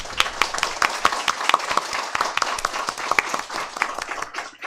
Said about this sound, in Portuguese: Precisamos terminar com a salva de palmas que eu tinha prometido no começo